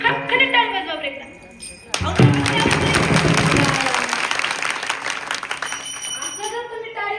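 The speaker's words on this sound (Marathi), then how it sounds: "जोरात असं खटखटीत टाळी वाजवा बरं एकदा" An audience at a Marathi kirtan breaks into loud, sustained clapping after a brief pause. A dense wash of claps carries on for several seconds, with a voice speaking before and around it.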